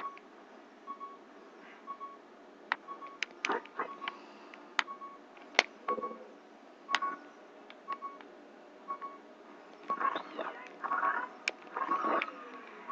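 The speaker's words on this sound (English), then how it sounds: "now I don't hear the obnoxious beep beep" In Zelda: Ocarina of Time, the low-health warning beeps over and over at a steady pace, with brief game sound effects mixed in and faint talk in places.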